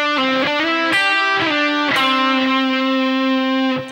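An electric guitar with distortion plays a short country-style phrase from a lesson, with several plucked notes, slides and bends, the last note sustaining before cutting off. No voice is heard.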